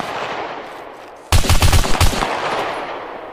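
A sudden loud burst of rapid automatic gunfire in the survival game SCUM, roughly five or six sharp shots in quick succession close by, followed by lingering echo over a quiet background.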